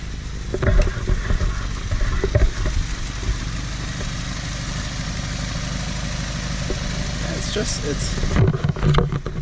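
A 2004 Nissan Sentra SE-R Spec V runs with a low, steady exhaust rumble and an idling engine drone, with a few sharper crackling bursts near the start and end as a person talks over it.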